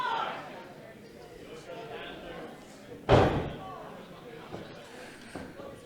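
One sharp, loud open-hand chop lands in a wrestling match, a single slap that stands out against crowd noise and the talk of commentators.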